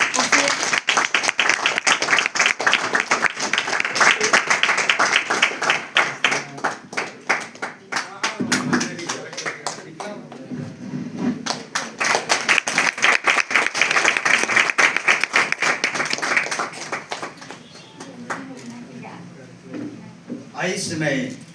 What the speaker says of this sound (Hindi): ताली बजा भी देंगे।